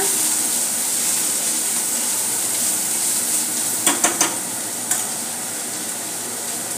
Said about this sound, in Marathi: थोडंसं शिमला मिर्च बारीक चॉप केलेली, तेही परतून घेऊया.